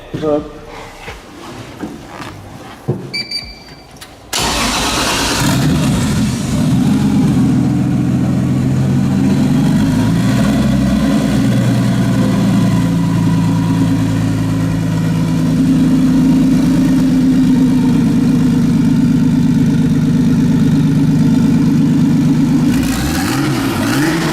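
A 1970 Lada's engine turns over and settles into a steady, loud mid-pitched idle that runs to the end, with a few light clicks and handling sounds before it starts.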